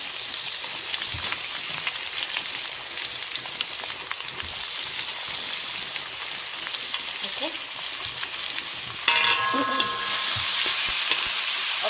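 Tomato fries in hot oil with chili for a gulai-style sea bass (siakap) fish curry: a dense, steady sizzle with stirring, swelling into a louder hiss near the end.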